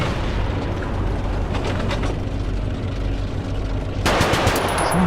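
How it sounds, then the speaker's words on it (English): Machine-gun fire from the combat game War Thunder, a dense continuous rattle of rapid shots under a steady rumble of battle noise, growing louder and sharper near the end. "he auto aims and uses his machine gun to test and see whether he's got a line of fire on that label"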